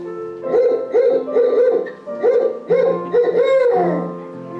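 A person imitates a barred owl call with their voice, a rhythmic series of hooting, laughing hoots rising and falling in pitch, close and loud.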